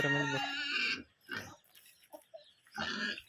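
Pigs and piglets on a farm squeal and grunt in loud, close bursts, with a pause before more squealing near the end.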